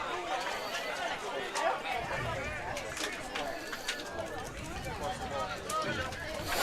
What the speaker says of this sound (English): Crowd's continuing to grow